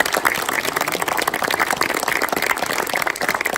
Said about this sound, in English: How about a big round of applause for Art Shamsky?